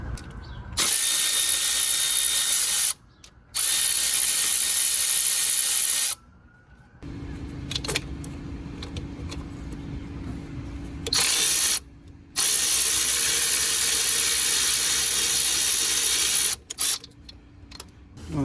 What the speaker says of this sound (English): Right now I'm gonna remove this brackets bolts here on the side.